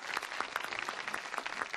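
Studio audience clapping in a quick, moderately faint burst of scattered handclaps, short and without talk over it.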